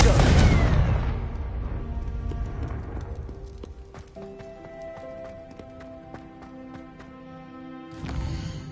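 A Confringo blasting spell goes off in the Hogwarts Legacy video game, a loud booming burst at the start that decays into ringing, chiming tones, then a second burst near the end, with faint voices.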